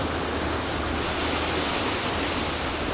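A cold mountain stream rushes steadily nearby, making a dense, even hiss of flowing water with no pauses or voices over it.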